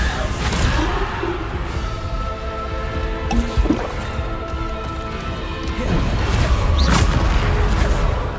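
Bombarda blasting spell in Hogwarts Legacy: repeated crashing explosive bursts with rumbling debris amid game sounds, loud and close, with a brief voice between blasts.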